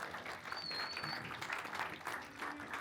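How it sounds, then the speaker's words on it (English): Audience members applaud after a panel talk at a streaming convention, a faint, steady patter of clapping lasting a few seconds with a brief whistle-like tone early on. "Okay, claps."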